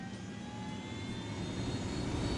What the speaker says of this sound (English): Get to the chopper.